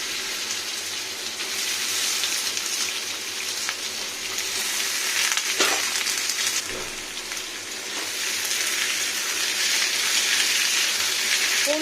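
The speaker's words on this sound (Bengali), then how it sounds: "এবার আমি দিয়ে নেবো আলুগুলো, ফালি ফালি করে কেটে নেওয়া আলুগুলো।" Sliced potatoes frying in hot oil with panch phoron, a steady, loud, dense sizzle and crackle that holds throughout with no talking.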